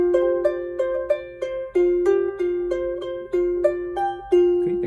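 A charango plays a plucked melody on its third string, with clear, bright notes picked one by one in an even rhythm, each ringing briefly before the next, close and alone.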